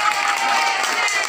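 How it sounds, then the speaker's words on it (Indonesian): A crowd at a scripture-reading contest gives dense, loud applause with cheering, a brief continuous roar of many hands. "Kita berikan tepuk tangan."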